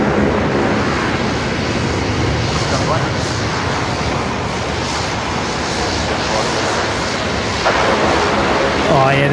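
Rex airline plane taxiing on taxiway Zulu at Brisbane Airport, a steady broadband engine rumble that fills the whole stretch, with voices chatting on top.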